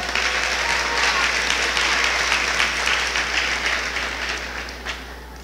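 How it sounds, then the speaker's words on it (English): A large crowd at a 2016 high school graduation ceremony claps in a dense, sustained roar of applause that holds loud and steady, then slowly tapers off toward the end. "Graduates, please give your families, your faculty, and all of your supporters a warm round of applause"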